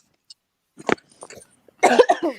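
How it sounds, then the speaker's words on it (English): A person coughs a few times in quick bursts, close and fairly loud, with short pauses between. "I know y'all hear me coughing."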